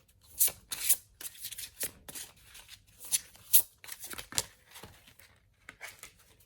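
A tarot deck is shuffled and cards are drawn close by, making quick papery riffles and flicks in uneven bursts separated by short quiet gaps.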